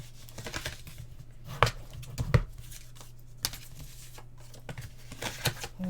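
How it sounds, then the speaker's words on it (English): A paper guillotine chops through paper during mini album crafting, giving a few sharp, separate cuts over a steady low background hum. "I prefer to use the guillotine."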